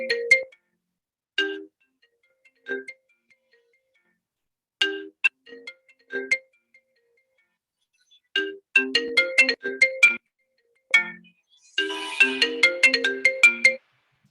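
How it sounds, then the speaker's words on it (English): A phone ringtone plays alone in repeated short bursts of bright, melodic tones. The bursts come at irregular intervals and are close and clear, ending in a denser, busier flourish. "I thought it was a phone ringing."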